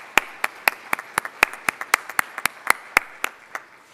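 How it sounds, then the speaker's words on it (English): A single person claps about twenty times in a steady, even rhythm, close and crisp, with no cheering or talk, offered as thanks to sponsors at an education awards celebration. "So let's give them a round of applause and thanks."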